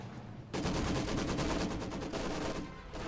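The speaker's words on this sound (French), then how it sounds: "Mitrailleuse lourde." Heavy machine gun fire from a war video game erupts after a brief lull. A dense, rapid stream of loud, close shots runs for about two and a half seconds.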